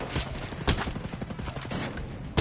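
Gunfire in Ghost Recon Breakpoint, with a few sharp shots standing out against a busy background of smaller pops and game noise.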